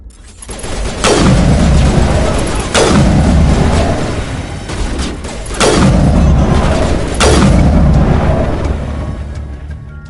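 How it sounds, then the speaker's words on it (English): Heavy gunfire during a firefight in Mass Effect Legendary Edition: four loud, booming bursts roughly every one and a half seconds over a dense, continuous rumble of combat. "Open fire! Open fire!"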